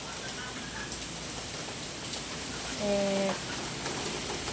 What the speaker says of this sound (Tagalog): Ang lakas na ng boost ng ulan.